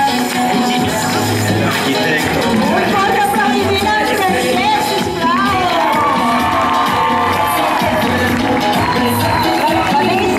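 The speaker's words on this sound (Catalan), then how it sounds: "Un fort aplaudiment, sisplau!" At a high school graduation ceremony, a large crowd cheers loudly with whoops, shouts and children's voices, a sustained, dense roar that stays at full volume throughout.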